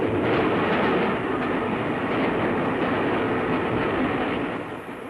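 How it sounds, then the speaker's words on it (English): An LMS steam train runs along the rails, a dense, steady roar of wheels and carriages rolling past at close range, easing slightly at the end. "now, at this moment, LMS trains are starting on their journeys"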